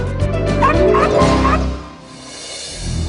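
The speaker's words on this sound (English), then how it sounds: "the world's second smallest dog is Buddy's sister, Monica" A tiny dog, one of the world's smallest, gives a quick burst of three or four high-pitched yips and barks up close, then falls quiet under faint background sound.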